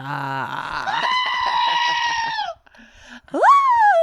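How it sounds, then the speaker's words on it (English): A goat screaming loudly at close range: a long, harsh, wavering bleat that breaks off, then after a short gap a second sharp rising scream. "The goat has screamed."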